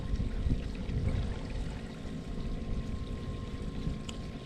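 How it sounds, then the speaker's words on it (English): Water flows down a stream table model at a heavy-storm setting, a steady low rushing and trickling that holds at an even level throughout. "We got more water flowing down the stream"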